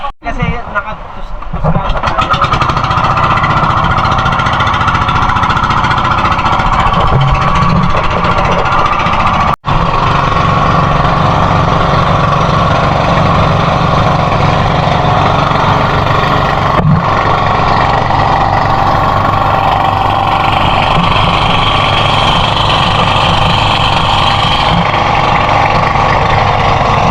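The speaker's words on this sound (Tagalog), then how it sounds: "sakay na kami dito sa bangka." A boat engine drones loudly and steadily throughout, with a brief dropout partway through, on a boat trip to the subterranean river in Puerto Princesa, Palawan. Voices may be faintly present under the engine.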